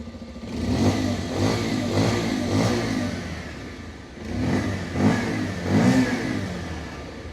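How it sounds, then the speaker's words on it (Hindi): A Bajaj Pulsar NS125 motorcycle engine with an underbelly exhaust revs repeatedly, rising in short bursts over a steady idle, close and fairly loud, with a brief pause midway. "चलो अभी रेफ करते हैं।"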